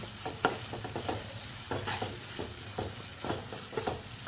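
Ginger garlic paste sautéing in a pan over browned onion for a cauliflower and potato curry, a close crackling sizzle broken by rhythmic spoon scrapes and taps, no voices.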